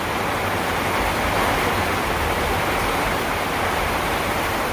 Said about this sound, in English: As you can hear, it's raining in buckets.